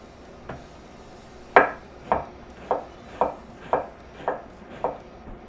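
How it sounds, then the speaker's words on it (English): A knife slices an onion on a cutting board, with one sharp cut followed by six more evenly spaced chops at a steady rhythm, close and clear with no talk. "breaking down our onion. We're just going to slice it up"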